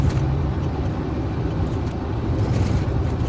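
A car drives along a city limits road in Kuwait, its engine and tyre rumble steady and close, with wind buffeting throughout and no talking.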